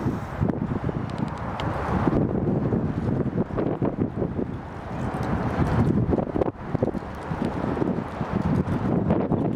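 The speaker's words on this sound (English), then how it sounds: "Pretty windy." Strong wind blows outdoors and buffets the microphone in loud, uneven gusts throughout, with no talking.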